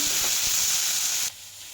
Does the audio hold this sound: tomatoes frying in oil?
yes